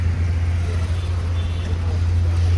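A motor vehicle on the road during a group road trip, a steady low engine and road drone that stays even and continuous throughout, with no clear rise of an approach.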